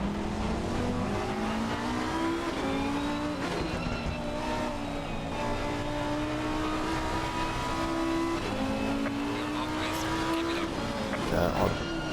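Lamborghini race car in Assetto Corsa Competizione at the Nürburgring, a continuous high engine whine rising and falling through gear changes, with occasional tire squeal and a commentator talking over it.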